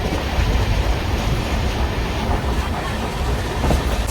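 Steady low rumble of a running passenger train heard from inside the carriage, a continuous broadband roar with faint rail clatter, no talk.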